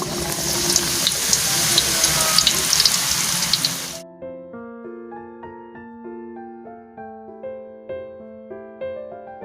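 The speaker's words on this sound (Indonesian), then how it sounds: "Selanjutnya akan saya goreng ini ya." Loud hissing sizzle for about four seconds as cooked food is dropped into hot oil, then it cuts off and soft musical tones play.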